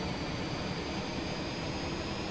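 In an Airbus A320 flight simulator game, the auxiliary power unit and air conditioning run as a steady, even roar and hiss that never changes, with no voices.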